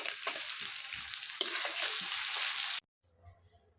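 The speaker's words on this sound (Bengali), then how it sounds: "সেই জন্য আমি বেরেস্তাটা ভেজে নেব" Onions frying in hot oil for beresta, crisp fried onions for a crab biryani, with a steady close sizzle and occasional stirring clinks before the sound cuts off abruptly.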